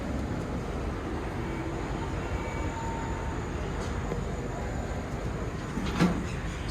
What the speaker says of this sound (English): We actually got a cage elevator ride. And it's a ThyssenKrupp.